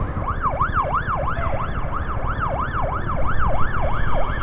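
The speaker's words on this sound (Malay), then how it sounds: "Ambulans dah bunyi." A loud ambulance siren wails in a steady repeating up-and-down pattern, close by, with traffic rumble underneath.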